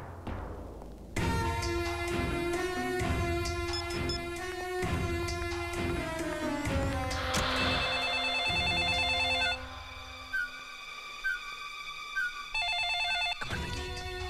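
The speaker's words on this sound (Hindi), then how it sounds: "कम ऑन बेटी, फोन उठाओ।" A telephone rings repeatedly, with insistent bell-like tones sounding under a busy comedy-film music score that swells, rings out and stops in short bursts.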